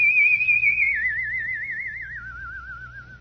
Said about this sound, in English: I discovered that I could make a whistle tone.